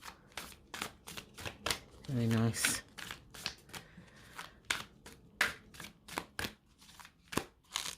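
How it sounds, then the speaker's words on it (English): An oracle card deck is riffle-shuffled in one quick burst, surrounded by light handling taps, with a brief spoken remark afterward. "let me give the cards a quick shuffle to see how they shuffle"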